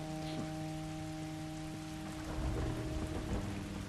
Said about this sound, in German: So, es regnet immer noch.